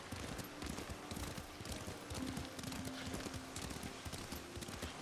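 Steady clip-clop of horse hooves trotting at a quick, even rhythm in the video game Ghost of Tsushima, fairly quiet, with faint background ambience.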